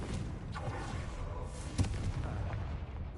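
Explosive spell blast in a Harry Potter video game: a single dull boom near the middle of a short stretch of low rumbling ambience.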